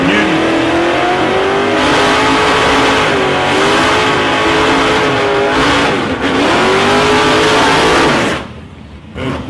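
A 1955 Chevrolet drag car belonging to Troy Newton roars at a drag strip with a loud, sustained engine run and rising and falling revs, close and steady, before dropping off sharply near the end.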